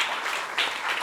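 An audience at a speech gives a round of applause, steady full clapping from many people with a slight swell midway, moderately loud with no talk over it.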